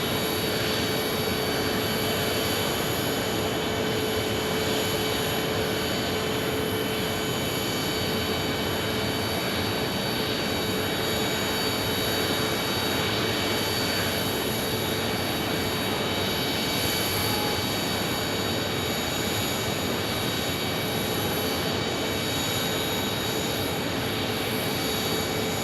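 Jet aircraft turbines spool up at Phoenix Sky Harbor airport in a loud, unbroken roar with a high whine riding on top, sustained and close throughout.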